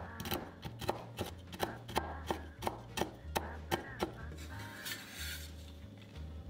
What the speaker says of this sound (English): Roughly chop the nuts.